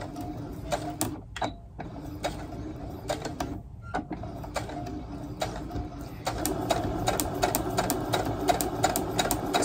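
A sewing machine stitches through heat-resistant material for a sashiko coaster in quick bursts, its rapid mechanical clatter pausing briefly, then running steadily and a little louder toward the end.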